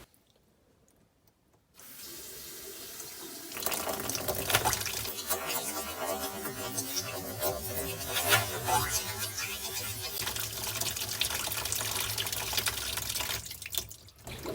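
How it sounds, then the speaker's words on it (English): Hot tap water flows into a clogged bathroom sink and rinses down the drain, starting after a short quiet moment, then a steady splashing rush that grows fuller, runs for about twelve seconds and cuts off near the end. "Use hot water to rinse it through."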